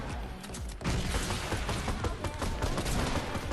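Dense, continuous gunfire from the video game Fortnite, a rapid overlapping fusillade with heavy thuds that grows louder after the first second and keeps pounding without pause.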